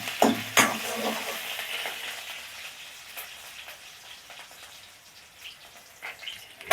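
A spatula stirs egg bhurji in a hot pan at home, with a few sharp scrapes early on over a steady soft sizzle that fades gradually, no voices.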